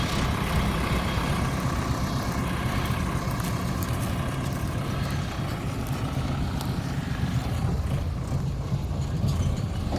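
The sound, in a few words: tractor engine idling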